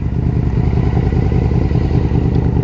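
A Yamaha Royal Star Venture V4 touring motorcycle engine running close by, a loud, steady, throbbing low rumble with an even pulsing beat and no voices.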